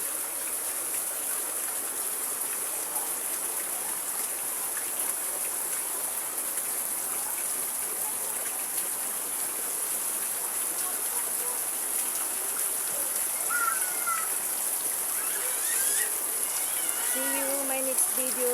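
Steady heavy rain hisses continuously with running water beneath it, a constant wash of sound from a downpour outside a house; faint higher chirps appear near the end.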